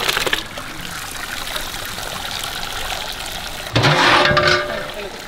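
Hot water drains and trickles from half-cooked rice while it is being made into octopus biryani, a steady flowing wash that swells into a louder gush near the end.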